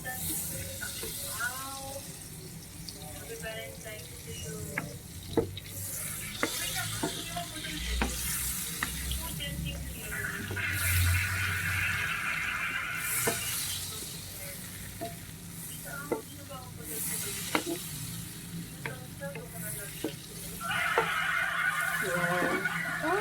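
Butter melting in a pan gives a soft, steady sizzle and frying hiss for the whole stretch, with occasional stirring clinks and light speech over it.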